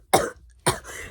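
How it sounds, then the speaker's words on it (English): Two sharp, close coughs from one person, about half a second apart, the second trailing off raspily, with no talking. "Sorry, I had to cough."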